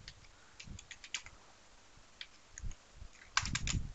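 A password typed on a computer keyboard, heard as quiet, scattered key clicks with a few short bursts near the end and no talk.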